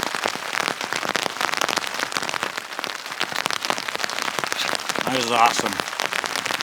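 Heavy rain patters densely and steadily on a backpacking tent high in the Uinta Mountains, close and loud throughout, with a person briefly speaking near the end.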